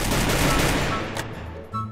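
Automatic SPD gunfire in the mobile battle game Free Fire, a rapid, loud burst of crackling shots through the first second, then a few sparser pops and a short tonal game sound near the end.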